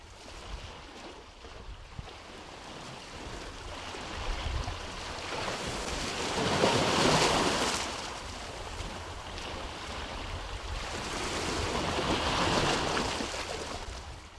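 Ocean waves roll against the Sunshine Coast shore of British Columbia, Canada, heard as a steady wash of surf with two broad surges, mixed with wind noise and no talking.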